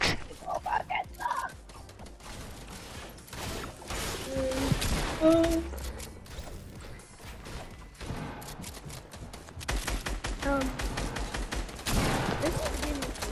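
Rapid bursts of gunfire in a video game, clusters of sharp shots and short pauses over several seconds, mixed with game sounds and a voice speaking at times.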